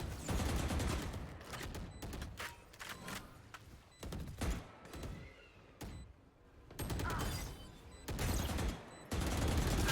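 Repeated crouch-spray automatic fire in a Valorant match, several rapid bursts of shots fairly close, broken by short pauses, with game sounds between the bursts.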